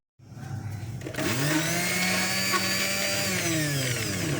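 Electric grinder blending a raw chicken burger mixture, a steady loud whirring motor that starts abruptly and holds a constant pitch throughout, with no voices.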